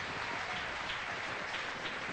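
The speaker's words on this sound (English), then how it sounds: "applause from Western Australian crowd here" A cricket crowd at a 1978 Test match in Perth, Western Australia, gives steady, broad applause heard from a distance, a continuous rustling wash of clapping with no talk.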